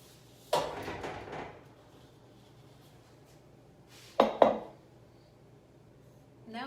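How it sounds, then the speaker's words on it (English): Lid placed onto a cooking pot of simmering whole tomatoes in a quiet kitchen, a single clattering knock followed later by a quick double clank as the lid settles, with near silence in between. "So we're gonna pop our lid on our pot and come back in 20 minutes."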